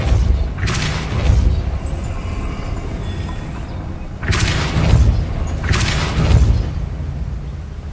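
Depulso force spells cast in the Hogwarts Legacy video game on PS5 land as deep booming blasts, one near the start and two more in quick succession later, loud over a steady low rumbling background.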